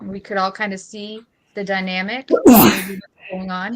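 A person sneezes once, loudly and abruptly, in the middle of a conversation at home, with voices talking before and after.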